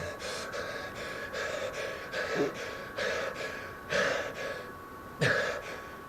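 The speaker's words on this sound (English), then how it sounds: "Stop breathing heavy." Heavy, anxious breathing in the VR horror game Farpoint comes in rhythmic inhales and exhales, with several sharper gasping breaths standing out, close and loud.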